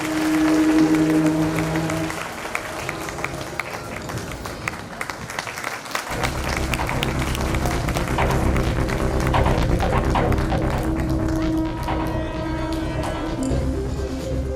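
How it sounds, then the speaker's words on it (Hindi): An audience at a school event applauds its teachers with steady, crowded clapping that runs throughout, loud and continuous under music. "उनके लिए बहुत बड़ी तालियां"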